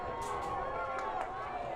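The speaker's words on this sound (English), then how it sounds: "cheer of displeasure from this New Canaan fan section" New Canaan fans at a boys lacrosse semi-final react to a disallowed goal with a loud, displeased crowd roar that stays steady and fairly distant through the short moment.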